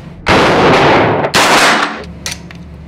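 Two loud gunshots ring out at an indoor shooting range, each followed by a decaying echo and a few faint clicks, with no voices over them.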